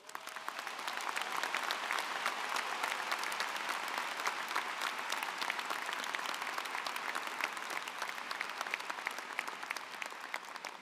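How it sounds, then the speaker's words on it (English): Graduating students and guests applauding at a university business school commencement in 2024, a broad, even roar of clapping from a large crowd that holds steady throughout. "Round of applause from our graduating students"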